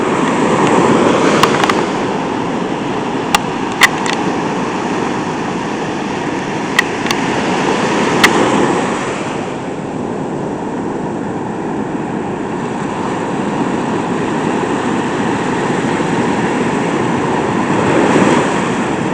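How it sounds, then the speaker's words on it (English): Big ocean waves crash and roll continuously for the whole stretch, a broad, loud wash of surf heard close by, with a few sharp clicks near the start. "Some pretty big waves out there."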